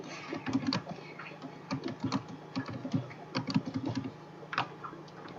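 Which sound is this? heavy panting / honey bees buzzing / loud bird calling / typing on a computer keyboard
typing on a computer keyboard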